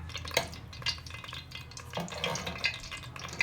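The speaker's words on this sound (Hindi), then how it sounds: "ऑयल हमारा गर्म हो गया है। अब इसमें एक मीडियम साइज़ का प्याज ऐड करेंगे" Onion frying in hot oil for sarson ka saag tadka, a close, moderate sizzle with intermittent scraping and clinking of a spoon stirring in the pan, no talk.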